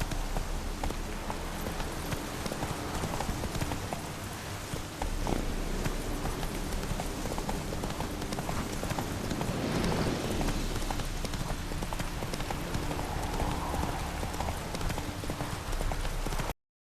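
A horse's hooves clop steadily in The Witcher 3 video game, a continuous fast rhythmic beat that runs the whole time at close range over a dense layer of game ambience and wind, with no talking.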